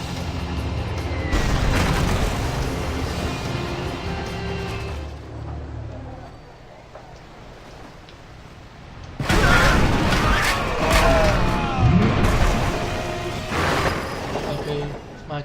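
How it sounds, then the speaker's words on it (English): Explosions boom in a Civilization Revolution game as a bomber strikes a Spanish galleon, with two bursts of heavy crashing blasts separated by a quieter stretch of softer rumbling. "Let's get this bomber and bomb the shit out of that Spanish galleon right now"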